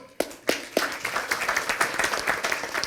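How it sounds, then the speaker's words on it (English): A small group claps during a leadership workshop, starting with a few sharp separate claps before settling into brief, uneven applause that stays fairly close and moderate in level. "give Peter a round of applause"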